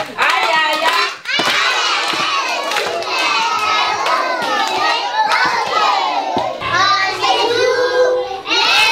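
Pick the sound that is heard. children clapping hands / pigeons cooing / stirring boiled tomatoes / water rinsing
children clapping hands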